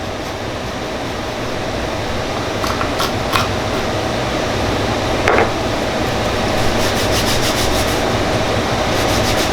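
Sandpaper is rubbed steadily by hand across a marble tic-tac-toe board, a continuous close gritty scrubbing with a few faint clicks and taps scattered over it.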